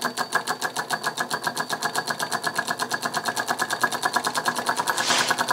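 A small model solenoid electric engine runs off a 12 volt tractor battery, with a cam-driven micro switch, giving a rapid, even train of mechanical clicks and buzzes at a steady pace, close and fairly loud.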